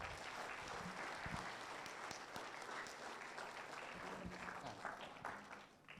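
An audience at a Wife Appreciation Day event held at a yoga center in Dubai claps in a steady, faint, continuous stretch of applause without speech.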